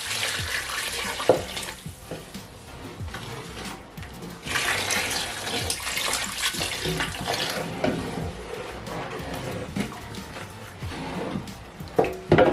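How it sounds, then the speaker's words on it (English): Water splashes and gushes into a cooking pot of jollof rice in uneven bursts, louder in the middle stretch, with light clatter near the end and no talking. "And I'm going to add more water."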